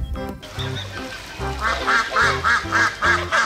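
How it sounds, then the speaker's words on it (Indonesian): A duck, heard where toy trucks and animals are being unloaded, gives a rapid run of loud, close quacks in a steady rhythm, with no voices. "kita mendapatkan bebek."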